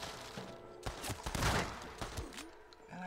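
Gunfire in Red Dead Redemption echoes through a foggy, smoky shootout: a handful of sharp cracks spaced irregularly, some louder and closer than others, over steady background noise.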